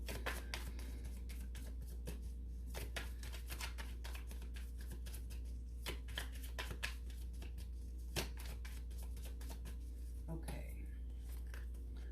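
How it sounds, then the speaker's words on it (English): A tarot card deck is shuffled and cut during a reading, making quick riffling and flicking card sounds over a constant low hum, with a brief voice near the end. "One last shuffle and cut"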